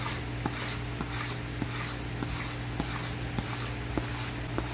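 Grime is scraped off dirt bike plastic with regular, rhythmic strokes, each a soft raspy scratch about every half second, close up over a faint steady hum.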